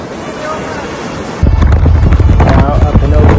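Ocean waves wash up on a beach, a loud close rush of surf with heavy wind buffeting the microphone, and the water surges in noisily partway through.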